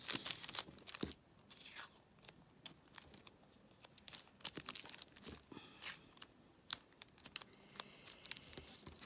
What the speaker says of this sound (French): Je vais mettre un petit bout de masking tape qui me traîne là